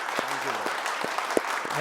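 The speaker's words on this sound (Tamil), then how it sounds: "ஸோ கலைக்கு வந்து நல்ல ஜோரா கைத்தட்டி வாழ்த்துக்களை தெரிவித்துக்கலாம்" Studio audience clapping on a Tamil television comedy show, a loose patter of claps with a voice talking over it.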